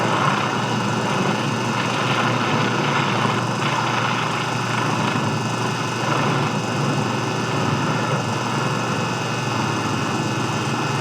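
A steady, droning Twin Otter floatplane propeller engine runs continuously at close range as it settles onto water, a loud buzzing hum with no pauses and no voices.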